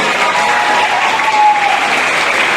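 An audience at a Christmas carol singing event applauds St Joseph School students, a loud, dense, continuous clapping from a large crowd that holds steady throughout.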